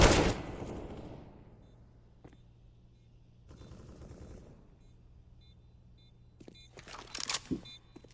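Gunfire in Counter-Strike: Global Offensive, including an AK rifle: a loud burst opens the clip, followed by scattered quieter shots and a late cluster of sharp cracks over faint game ambience.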